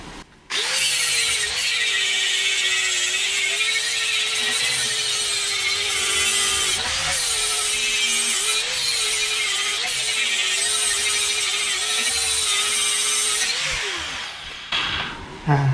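A power grinder works steadily on a scrap steel workpiece made of leftover box tubing for a DIY metalwork job: a loud, continuous whine that holds for about thirteen seconds, with a brief dip midway, then stops.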